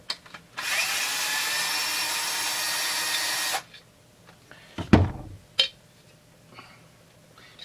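Power drill backing out 4 mm Allen screws while dismantling a Husqvarna 350 chainsaw, a steady close whine running about three seconds, followed by a few clunks of loose parts being handled.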